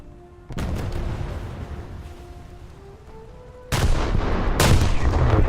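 Heavy naval gun salvo in a pocket battleship naval combat game: a loud broadband blast hits at about half a second and rumbles on, then a second, even louder salvo erupts near the end, both booming and close.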